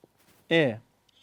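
A single short, rising-then-falling meow close by, loud against near silence, with faint sounds before and after.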